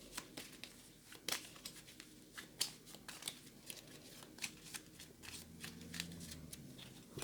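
A deck of game cards for a tabletop wargame being shuffled by hand, with repeated crisp riffling and flicking bursts at close range, fairly quiet and without talk.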